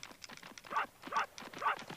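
A dog character in the video game Space Station Silicon Valley gives three evenly spaced synthetic bark-like yelps, fairly quiet with faint game sounds between them.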